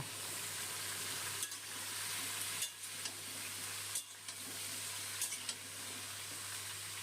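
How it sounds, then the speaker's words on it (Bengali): Cut vegetables and jackfruit seeds frying in oil on high flame, a faint steady sizzle with occasional soft stirring scrapes and bumps spread across the clip, no voices. "এই সময় গ্যাসটা হাই ফ্লেমে করে সবজিটা ভেজে নেব"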